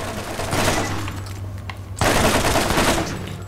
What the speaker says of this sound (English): this machine gun is really good